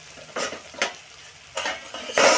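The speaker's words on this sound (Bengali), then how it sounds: "এখন আমি মশলাগুলো মিশিয়ে দিই।" A spoon stirs spices into orange pickle in an oily pan, making a few separate scraping strokes over a soft sizzle, close and fairly loud, with no talk.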